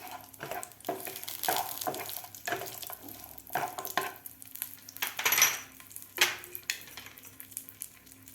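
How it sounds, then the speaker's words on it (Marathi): Coconut slices roasting in oil in a pan for a village-style egg curry, close sizzling broken by repeated scraping stirs and light clinks of a spoon against the pan, with no voices. "आता आपल्याला एक खोबऱ्याचे काप त्यामध्ये भाजून घ्यायचे आहेत"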